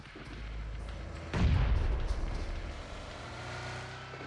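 Gunfire hits a car during a team battle royale scrim match, a sudden heavy burst of shots and impact booming loudly midway over a steady game background rumble.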